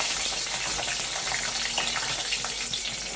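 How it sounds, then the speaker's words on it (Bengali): Whole green chillies sizzle in hot oil for tempering in a home kitchen, a steady close hiss and crackle of frying that holds evenly throughout with no talk. "গোটা কাঁচা লঙ্কাগুলো ফোড়নে দেবো।"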